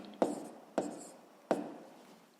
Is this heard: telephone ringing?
no